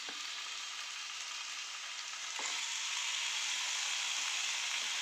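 Marinated fish frying on a hot tawa gives a steady, close, loud sizzle with faint crackles and a slight rise partway through, and no talking.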